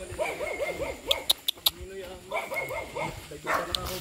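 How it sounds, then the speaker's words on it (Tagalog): A dog barks and yips in quick repeated bursts at a moderate distance near homes along a mountain trail between Mt. Lubog and Blue Lagoon, with people talking over it and a few sharp knocks. "Ayan o, may aso pa nga yun. Ayan o, yung aso."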